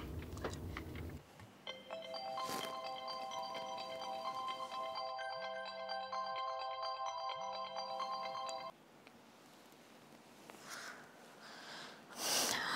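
Phone ringtone playing in a quiet room while someone places a call, a bright melodic ring with a few soft breaths or sniffs alongside, then it cuts off.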